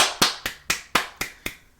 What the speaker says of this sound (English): Everybody give India Love a round of applause.